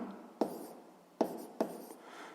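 Pen scratching across paper while a physics exercise is written out by hand, three short quiet strokes with brief pauses between them, close and without voices.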